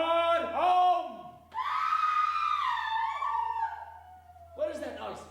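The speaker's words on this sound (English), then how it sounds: "Cry of women" Women's high, wailing cries ring out as a stage effect in a live Macbeth performance at a market hall, several drawn-out voices rising and falling in overlapping bursts over roughly five seconds.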